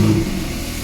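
A Porsche 911 with a new exhaust fires up, giving a brief, loud, close engine rev that settles right away into a rumbling idle.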